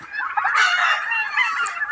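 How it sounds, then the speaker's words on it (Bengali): Turkeys let loose to forage on grass and leafy greens give a continuous run of loud, overlapping honking calls, close by and without pause for about two seconds. "টার্কি মুরগকে আমি ছেড়ে দিয়েছি।"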